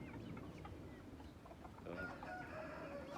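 Free-range chickens on a rural backyard farm in Isan, Thailand, cluck together with a rooster crowing, a faint, distant, layered flock under steady outdoor background noise.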